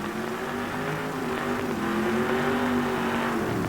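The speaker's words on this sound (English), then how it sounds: "Chevy Blazer grafted onto a World War II tank running a 454 Chevy engine." A monster truck built from a Chevy Blazer body on a World War II tank, running a 454 Chevy engine, drives over cars at a 1988 USHRA show in Saginaw, its engine droning steadily and rising slightly in loudness.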